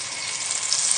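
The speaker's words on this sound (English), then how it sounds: "just swirling the butter around the pan just to coat the bottom" Butter sizzling in a pan as it is swirled to coat the bottom, a brief, even hiss at moderate loudness with no voices.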